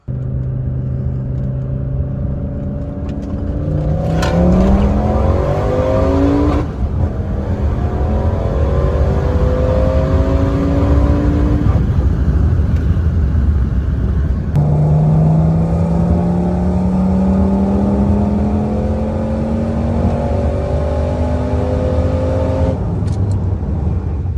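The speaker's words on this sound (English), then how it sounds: "we're going to drive the car now" Audi RS6 with a V10 engine and a newly installed high-flow fuel pump, driven on a private road during a test drive. The loud engine rises through repeated hard accelerations with rising revs and gear changes over steady road rumble, with no talking.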